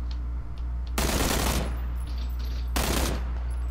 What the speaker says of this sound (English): Shots? That's me.